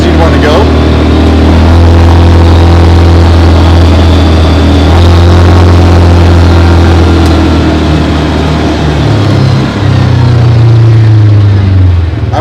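A 2024 CFMoto UForce 600 side-by-side engine pulls steadily in low range, a loud droning hum with slowly shifting pitch, while a person speaks over it throughout.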